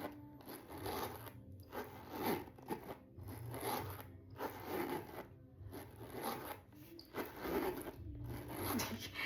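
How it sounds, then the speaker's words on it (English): A zipper on a Louis Vuitton Danube bag is pulled open and closed again and again: close, soft rasping runs separated by short pauses, with no voice over them. "Here's the zipper pull."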